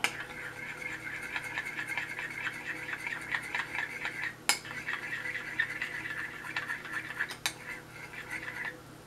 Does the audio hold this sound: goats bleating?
no